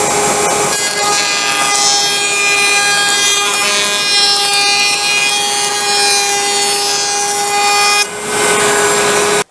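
A router cutting a round-over profile along the edge of oak trim, a loud, steady, high whine with a slight grinding rasp that holds for about eight seconds before it is cut off.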